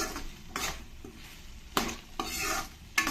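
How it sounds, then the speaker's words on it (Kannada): Chopped green beans and corn kernels fry in oil in a pan, a steady soft sizzle broken by several scraping stirs of a spoon against the metal, close and moderately quiet. "ಆ ಎಣ್ಣೆಯಲ್ಲಿನೇ ಆ ಬೀನ್ಸ್ ಮತ್ತು ಕಾರ್ನ್ ಎರಡೂ ಕೂಡ ಸ್ವಲ್ಪ ಚೆನ್ನಾಗಿ ಫ್ರೈ ಆಗಬೇಕು"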